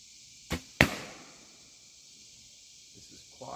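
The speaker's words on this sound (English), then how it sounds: "I'll get the red balloon on the far deer with the longbow and just let you hear the difference" Arrow loosed from a longbow at a red balloon target on a deer decoy: a sharp string snap and whoosh, then a louder crack with a fading tail, followed by near silence and a faint rustle.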